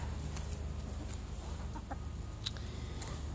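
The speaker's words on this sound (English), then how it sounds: "I love my spoiled chickens" Homestead chickens, roosters and hens, cluck softly in the background, giving short scattered calls over a steady low hum, faint and with no talk.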